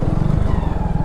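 A motorcycle engine idles and putters close by as the bike is ridden slowly into a house compound and brought to a stop, with a steady low chugging rhythm.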